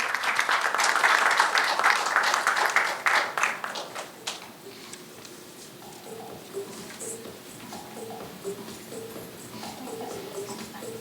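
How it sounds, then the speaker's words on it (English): Loud audience applause at a conference awards ceremony, a burst of many hands clapping that tapers off after a few seconds, leaving quieter room sound and faint tones behind. "Please give them both a big round of applause,"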